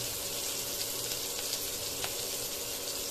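Cumin seeds and crushed garlic frying in hot oil for a fish curry, a steady dense sizzle with faint crackles running evenly and close throughout.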